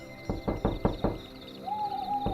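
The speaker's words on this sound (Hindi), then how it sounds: "रात को जब वो सोने को हुआ तो किसी ने दरवाजे पर दस्तक दी" A door is knocked on five times in a quick, even series of hollow raps, followed by a faint sustained tone and one last thud.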